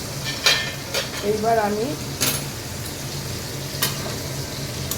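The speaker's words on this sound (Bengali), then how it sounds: "পার্শে মাছ ভাজা করছি" Parshe fish frying in a covered pan over a medium flame as the water cooks off, giving a steady close sizzle with a few clinks and scrapes of a utensil against the pan, and a voice speaking briefly.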